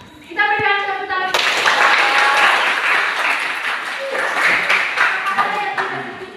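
Classroom applause from students after a presentation, a burst of many hands clapping that starts abruptly and continues steadily for several seconds, with children's voices mixed in.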